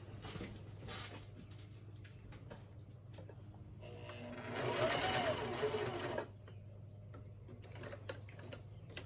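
A sewing machine runs in one short burst of stitching midway, fairly close, with quiet mechanical ticks and handling before and after.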